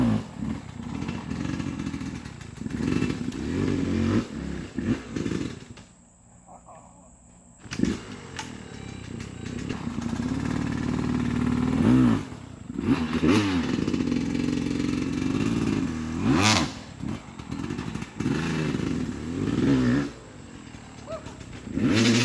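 An old motocross bike engine revs and bogs through a slow pivot turn up a hillside in hard enduro riding, with a throbbing, fluctuating exhaust note, brief drops and clattering, fairly close.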